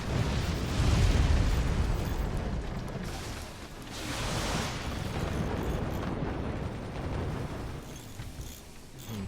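A weapon shot and explosions in the physics-based fort battle game Forts: loud, heavy booming blasts with rumbling low-end tails, swelling and fading in a few broad waves over sustained noisy battle din.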